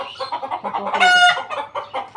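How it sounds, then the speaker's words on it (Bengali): Chickens cluck up close and fairly loud in quick repeated bursts, with one drawn-out higher squawk in the middle. "মুরগি দেখো কোথায় গেছে ওই দেখো"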